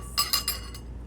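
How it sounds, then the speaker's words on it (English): A spoon clinks against a pot while stirring egg drop soup, giving three or four quick, bright metallic taps close by over a low steady hum, with no talking. "So I'm just going to give it a quick mix"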